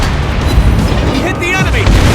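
Shell hits rain on a tier 6 Queen Elizabeth battleship in World of Warships Blitz: loud, continuous booming impacts and blasts, dense and sustained for the whole stretch, with voices mixed into the din.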